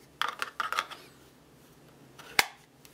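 A magazine clicking into a double Kydex magazine carrier with a tension screw, made for Glock 19 magazines: a cluster of quick sharp plastic clicks, then one crisp, loud snap, close up with no talk.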